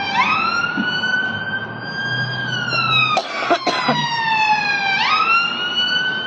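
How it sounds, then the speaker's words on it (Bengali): An ambulance siren wails past on a city street, its rising and falling tone loud and close, then dipping in pitch as it goes by, with a short cough and traffic rumble beneath. "দেখো একটা অ্যাম্বুলেন্স যাচ্ছে।"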